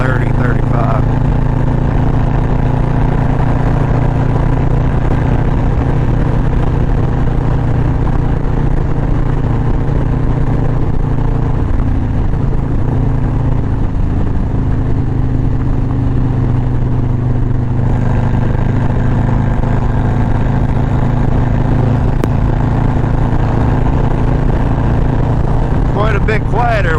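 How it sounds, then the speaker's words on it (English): A motorcycle on a Christmas Eve ride, engine droning steadily with a low rumble and wind noise at a constant cruising pace, loud and continuous with no clear separate revs. "This bike likes to rev."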